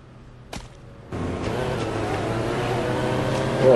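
In the Lego Batman 2: DC Super Heroes video game, a motorbike engine starts up after a brief click and then drones steadily, growing slightly louder at the end, with no talking over it.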